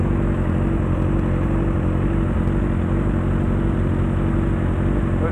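A Honda CB1000 Hornet motorcycle engine runs on a São Paulo street, a loud steady low drone of riding with continuous engine hum and road noise, no talk over it.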